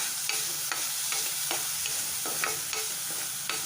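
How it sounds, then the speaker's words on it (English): Minced meat fries with ginger garlic paste in a hot pan, a constant loud sizzle broken by regular scraping strokes of a spoon stirring through it. "Stir that too very well."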